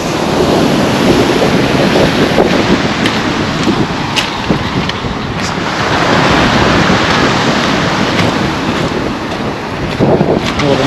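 Sea waves roll onto a Black Sea beach at Lazarevskoye near Sochi, and strong wind buffets the microphone throughout in a loud, continuous wash of surf and gusts without speech.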